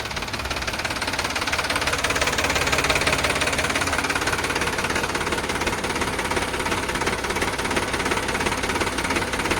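A Sonalika DI 745 tractor engine runs steadily and loudly nearby, a dense, continuous knocking chug with no change in pace and no voices over it.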